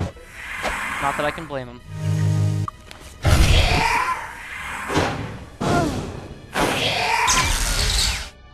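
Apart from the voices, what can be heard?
Fire Blast spell cast in video game Might and Magic 6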